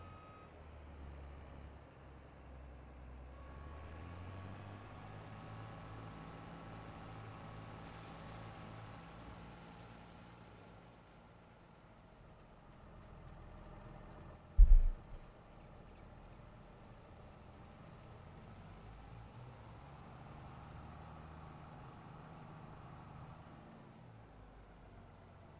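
A farm vehicle engine in Farming Simulator hums at a low steady pitch, faint and continuous, with a short loud thump partway through.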